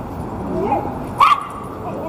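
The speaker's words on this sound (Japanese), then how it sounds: "吠えないで吠えないで、チワワ、" A small Chihuahua mix dog on a Munich street at Christmas gives a short yappy bark and whimper, close by, with a person talking nearby.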